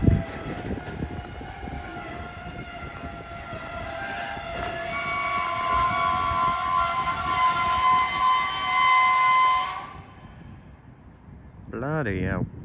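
A train passes at Peterborough on the East Coast Main Line, a loud close rumble with sustained tonal whine that cuts off sharply near the end, followed by a brief warbling tone.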